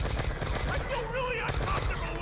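Rapid gunfire in Black Ops 2 Zombies, a dense, loud barrage of shots fired in quick succession, with game sounds and effects layered underneath.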